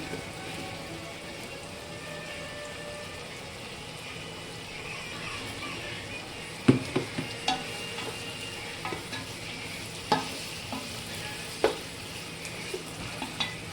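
Ingredients for chicken biryani sizzle and fry in a pot with a steady crackling hiss, joined later by scattered clinks and scrapes of stirring, close and moderately quiet.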